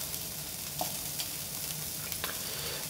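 Grated parmesan poured into a hot pan inside a metal cookie cutter gives a faint, steady sizzle with a few soft ticks and scrapes, heard alone without any talk.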